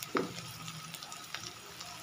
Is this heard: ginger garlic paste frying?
yes